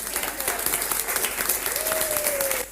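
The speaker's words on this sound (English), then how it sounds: "please can we applaud them?" A university audience applauds its deans and directors with a dense, steady wash of clapping that holds for a few seconds and fades at the end, with faint voices mixed in.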